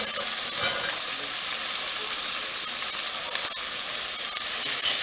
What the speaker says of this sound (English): I'm like frying them down a little bit. I'm gonna let those cook a little bit in the oil.